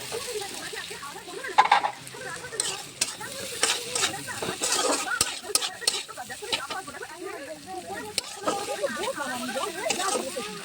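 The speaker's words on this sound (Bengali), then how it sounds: "তো চলো এটা একটু কষানো হোক" Soybean dish sizzles and is stirred in a hot pan, with scraping and crackling throughout, under a voice speaking nearby.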